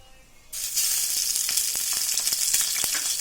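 Curry leaves dropped into a small amount of hot oil for a Sindhi curry burst into a loud, steady sizzle after a brief quiet start, with sharp crackles popping through the continuous hiss.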